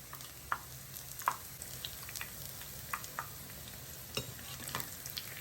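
Large fenugreek leaf fritters (methi gota) deep-fry in hot oil, giving a continuous bubbling sizzle scattered with rain-like crackles and small pops, heard up close with no talking.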